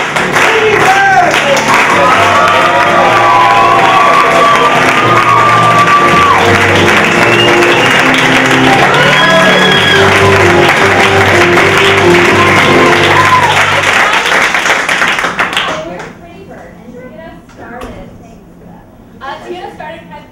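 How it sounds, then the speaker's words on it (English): A comedy theater audience applauds and cheers to welcome an improv troupe to the stage, a loud, sustained wash of clapping and whoops lasting about fifteen seconds before fading to scattered claps and murmurs. "can we please have a big round of applause for Pretty Bird?"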